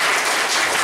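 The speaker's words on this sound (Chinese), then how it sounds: "我们热烈掌声欢迎" A crowd claps warmly to welcome a speaker at an evening talk, a dense, loud burst of applause filling the brief moment without any voices.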